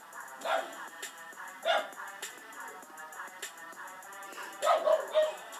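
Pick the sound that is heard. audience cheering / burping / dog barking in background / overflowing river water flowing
dog barking in background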